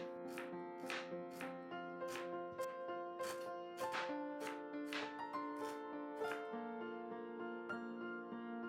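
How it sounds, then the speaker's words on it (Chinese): A knife slices ginger for scallion oil chicken leg, making about a dozen crisp, evenly spaced cuts on a board, close and clear over steady background music. "姜切片"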